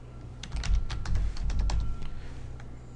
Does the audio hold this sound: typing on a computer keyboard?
yes